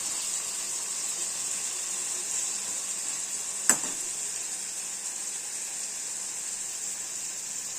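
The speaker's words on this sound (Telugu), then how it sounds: "ఆయిల్ పెట్టి ఇలాగా ఫ్రై చేసుకోవాలి బ్రింజల్ని" Brinjal slices fry in hot oil with a steady, close, hissing sizzle that runs throughout, broken once midway by a single sharp utensil click.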